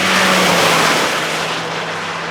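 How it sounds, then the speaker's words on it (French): A Renault Clio RS Track Day race car pulls away with a loud, broad engine roar that slowly fades as it drives off, with no talk. "Bon Nico, nous voici dans la deuxième voiture du jour. Une Clio RS Track Day plus."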